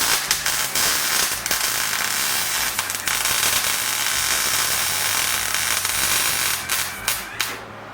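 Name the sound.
tack welding motor mounts on Jeep CJ7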